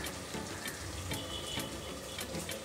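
Prawn biryani being stirred in a pot, with continuous sizzling and a run of scraping, clattering strokes close by.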